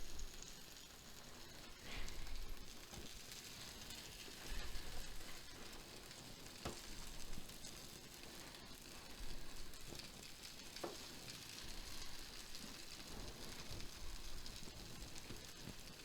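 Slices of cornmeal mush fry in a pan, browned on one side with thick pieces crisping, giving a steady close sizzle and crackle throughout, with a few small pops and stirring scrapes and no talk.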